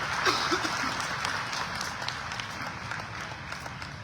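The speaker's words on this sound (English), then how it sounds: "Another round of applause for the President of the Republic of Zambia." Another round of applause for the President of Zambia at a digital government summit: a crowd claps continuously at moderate volume, evenly spread and steady, without voices over it.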